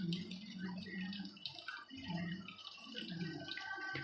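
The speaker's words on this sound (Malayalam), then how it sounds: "ഇത് നമുക്ക് വെള്ളം ഒന്ന് കളഞ്ഞെടുക്കാം" Cooked Korean noodles are drained of their water in a faint, continuous trickling pour with light splashing, heard alone.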